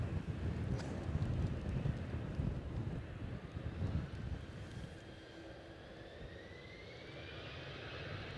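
Strong gusting wind buffets a camera microphone during plane spotting at Edinburgh airport, a loud continuous rumble with a faint rising jet engine whine behind it.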